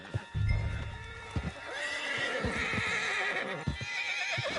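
In the video game Red Dead Redemption II, a horse neighs in a drawn-out whinny while hooves clop and thud in a galloping beat, moderately loud with no speech over it.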